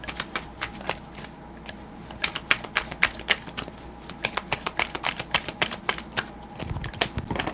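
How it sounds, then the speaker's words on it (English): Tarot cards being shuffled, a rapid series of crisp snapping and riffling taps as cards slide out of the deck, close and clear with no talk. "Whoa, these cards are sliding out."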